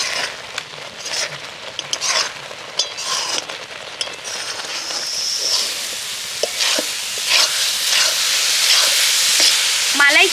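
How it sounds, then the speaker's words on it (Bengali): Milk mixture for milk cake stirred in a kadai over low heat, with a spoon scraping and sliding through the thickening mass in a steady, close rhythm over a soft simmering sizzle and occasional clinks. "আস্তে আস্তে জাল দেবো আর নাড়তে থাকবো মাঝে মধ্যে।"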